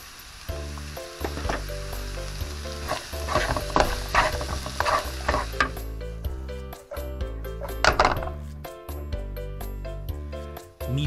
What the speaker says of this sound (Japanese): 玉ねぎと人参を加えて炒めていきます